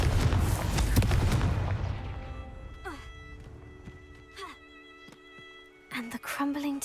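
A Confringo fire-blast spell explodes in Hogwarts Legacy with a heavy, rumbling blast that fades over about two seconds, followed by quieter game effects, light thuds and a voice speaking near the end.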